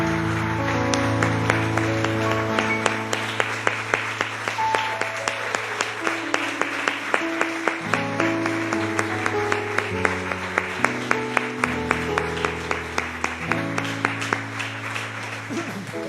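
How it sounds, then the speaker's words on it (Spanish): Congregation applause in a Spanish-speaking church rings out over sustained keyboard or organ chords. The clapping is steady and moderately loud, with music carrying beneath it throughout. "Le damos un aplauso al Señor,"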